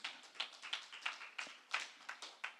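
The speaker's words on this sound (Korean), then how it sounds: "박수 한번 쳐주세요." A small church congregation claps in a steady, evenly spaced rhythm during a Saturday worship service, each clap crisp and moderately close, with no talking.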